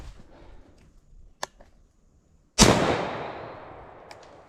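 A single sharp gunshot while hunting squirrels outdoors, loud and abrupt, with a long decaying echo that trails off through the woods after a couple of faint clicks and quiet rustling.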